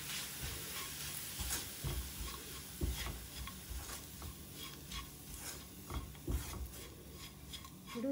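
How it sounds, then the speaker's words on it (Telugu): Gram flour dry-roasting in a pan over a low flame, close continuous scraping of a spoon stirring it, with a faint soft sizzle underneath. "ఇప్పుడు ఇది పచ్చి వాసన పోయి కొద్దిగా కలర్ చే మారే వరకు వేయించుకోవాలి లో ఫ్లేమ్ లో"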